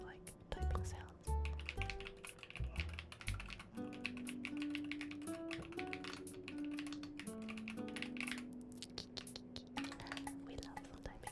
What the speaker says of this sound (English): I know a lot of you like typing sounds.